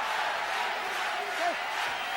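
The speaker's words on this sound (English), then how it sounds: "the crowd starts to urge on Axel Schulz to do something big" A boxing arena crowd roaring in the fourth round of the Jose Ribalta vs Axel Schulz fight, urging Schulz on, a dense, steady wall of distant cheering with a few shouts rising above it.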